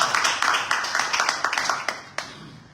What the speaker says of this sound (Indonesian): Tepuk tangan Tuhan.